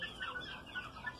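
A young carijó shamo chicken, about three months old, clucks softly and repeatedly, fairly close but quiet, with no voices over it.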